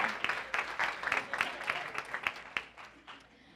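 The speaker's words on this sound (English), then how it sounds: "So give yourselves a big round of applause for those who keep your blogging up." Audience applause at a wedding industry conference session, a dense burst of clapping from a seated crowd that swells and then thins out over a few seconds.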